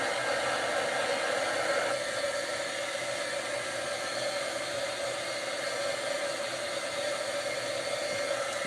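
A heat tool, used to melt a craft mixture, blows with a steady loud rushing hiss that continues unbroken for several seconds, its tone shifting slightly early on.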